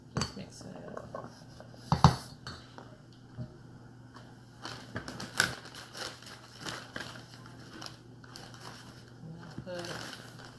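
Roasted chickpeas stirred in a bowl in a home kitchen, with scraping spoon and clinking against the dish in irregular bursts, a louder clank early on, over a low background hum and occasional talk.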